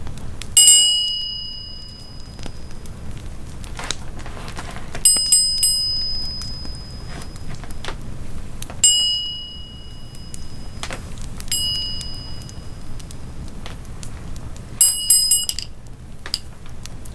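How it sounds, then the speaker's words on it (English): A small brass bell without a handle rings repeatedly in close, quiet ASMR roleplay: about six bright, high strikes, each leaving a long shimmering ring that fades before the next. "This is a brass bell"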